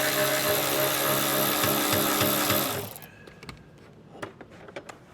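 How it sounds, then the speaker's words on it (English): A power driver fitted with a T30 Torx bit backs screws out in a car's storage area, whirring steadily for about three seconds before stopping, followed by a few small, close clicks and taps. "And then we'll take a T30 Torx bit and remove the screws."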